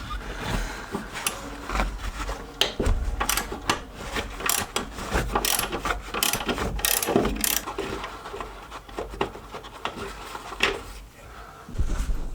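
A ratchet wrench works a 15 mm bolt on an engine mount of a Jeep Cherokee XJ, giving steady close clicking and scraping over about twelve seconds, with a few sharper knocks of metal along the way.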